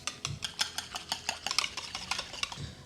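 Whisking skim milk powder into a gelato base in a bowl, a quick rhythmic series of light metallic clicks and scrapes as the whisk strikes the bowl, close and fairly quiet, with no talking.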